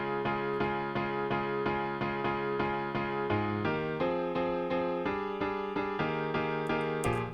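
Synth chords pulse in a steady dotted eighth-note rhythm, shifting through several chord changes at moderate level with no voices.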